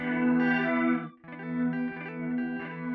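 A sustained tone through an Eventide Fission transient effect, heavily processed and washed in reverb and delay, with a brief dropout midway before the swirling, echoing sound resumes and continues steadily.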